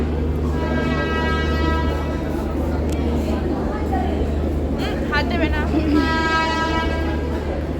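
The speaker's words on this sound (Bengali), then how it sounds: "আমাদের ট্রেন ছেড়ে দিয়েছে" A departing train's horn sounds loudly in long sustained blasts near the start and again near the end, over steady rumbling rail noise and background voices.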